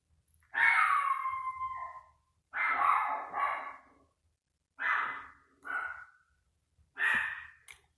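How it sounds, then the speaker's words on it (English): A dog gives several separate barks or whining yelps spaced about a second apart, fairly clear against an otherwise quiet room. "There's my dog barking in the background there."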